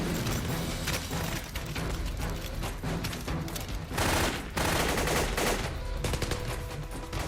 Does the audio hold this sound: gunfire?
yes